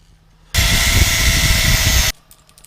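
A power tool cuts a metal part for a 1/14-scale model lowboy trailer, a loud, steady grinding whine running about a second and a half, starting and stopping abruptly between quiet shop sounds.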